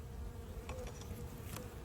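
Honeybees buzzing at an open hive during a beekeeper's inspection, with a soft, continuous drone of many bees that stays steady and fairly faint throughout.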